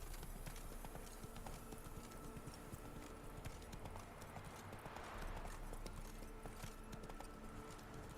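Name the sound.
horse hooves galloping, from the video game Witcher 3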